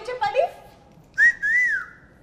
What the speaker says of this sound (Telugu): నువ్వు బజర్ కొట్టినట్లేదు, నన్ను చూసి విజిల్ కొట్టిన.